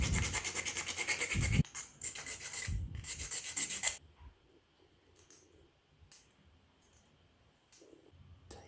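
A 3D-printed ball-jointed doll part is rubbed in short back-and-forth strokes, with close, dry scraping bursts for about four seconds, then quieter faint scratches and small clicks.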